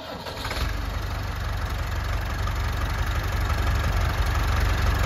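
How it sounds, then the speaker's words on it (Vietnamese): A Massey Ferguson 382 tractor engine catches after a short start at the beginning, then settles into a steady, close, rumbling idle with a low knocking pulse. "nổ máy lên."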